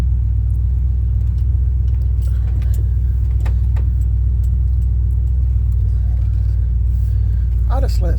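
A Chevy C10 pickup truck idles cold in neutral with a loud, steady, low engine rumble up close. A few light jangles and clicks sound over it, and someone speaks briefly near the end.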